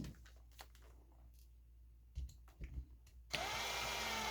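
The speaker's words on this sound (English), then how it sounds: "I'm gonna get this started and I'll finish off the power drill." A power drill on a custom mid-motor Losi 22S drag RC car conversion kicks in loudly and runs steadily at the end, after scattered light handling noises and quiet moments.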